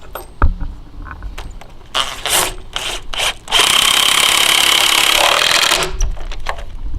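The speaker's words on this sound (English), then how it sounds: "grab your lag screw. Gonna run it through the pre-drilled hole" A lag screw is driven through a pre-drilled hole in a wooden swing set. A few knocks and short rubbing scrapes come first, then a sustained grinding drive of about two seconds, loud and close, with no speech.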